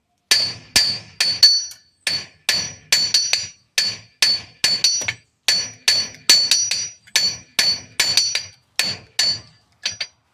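Steady, evenly spaced ringing hammer blows strike a horseshoe nail on an anvil, roughly two per second over ten seconds, loud and close with a bright metallic ring after each hit and no voices.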